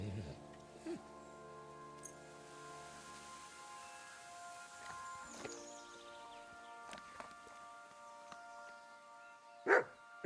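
A dog in the medieval world of Kingdom Come: Deliverance II gives a few short barks with gaps between them, heard under low game ambience and speech, with occasional hoof clops.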